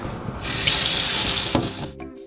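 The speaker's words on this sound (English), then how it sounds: "We're gonna put them in a colander in the sink and rinse them off" Kitchen sink tap running over tomatoes in a colander as they are rinsed, a steady loud rush of water that starts abruptly and cuts off near the end.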